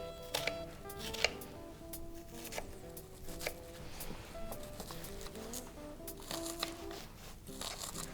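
A knife cutting through stuffed tomatoes for tomates farcies, with soft irregular chops and taps on a board, close and quiet, separated by brief pauses.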